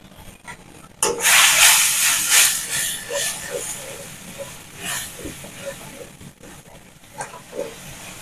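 Ground spice masala of turmeric, coriander and cumin frying in a pan for a tomato egg curry, a loud hissing sizzle bursting up near the start then settling into softer crackle with stirring sounds.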